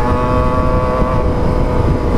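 A Kawasaki ZX25R motorcycle engine runs loud and close at high revs, a sustained, buzzing drone with steady tonal whine and wind rush, no talking heard.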